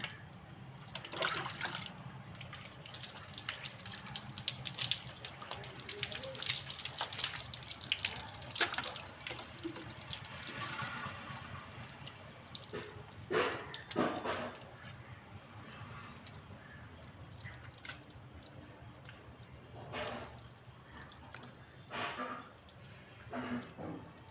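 Water poured over the body while bathing, an ongoing splashing and trickling with occasional louder splashes, fairly quiet and heard on its own.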